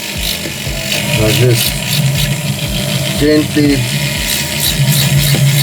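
A small abrasive disc on a rotary tool rasps and grinds steadily against metal jewelry lettering, close up, while someone talks over it.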